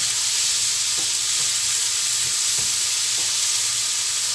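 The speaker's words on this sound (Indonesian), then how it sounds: "penyedap rasa sama gula pasir sedikit tumis sampai harum" Seasoning, salt and a little sugar are stir-fried until fragrant, making a loud, constant close-up sizzle and hiss with a few soft scrapes of stirring; no talk.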